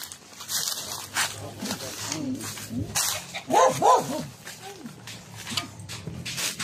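A dog barks a couple of times midway amid busy outdoor chatter, with people talking throughout.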